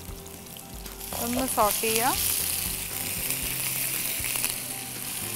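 Garlic and ginger frying in a pan, with steady close sizzling throughout and a few clinks as the pan is stirred. A voice speaks briefly over the frying.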